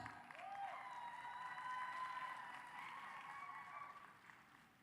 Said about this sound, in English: Let's please cheer her on.